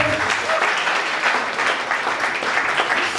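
Applause from wedding guests at an official civil marriage ceremony, a short burst of steady clapping from a modest crowd with faint voices mixed in.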